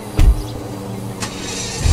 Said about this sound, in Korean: 배기음이 살짝 아쉬워서 제가 포르쉐를 안 샀어요.